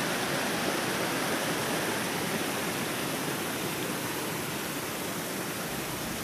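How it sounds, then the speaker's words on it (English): Continuous rushing water fills the whole stretch, a dense, steady roar like a fast stream or small falls nearby, in Colorado aspen woods in spring. "the sound of the running water"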